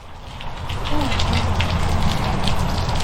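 Steady rain falls outdoors during a stormy day, a dense, continuous hiss and patter at fairly even loudness throughout, with faint voices mixed underneath.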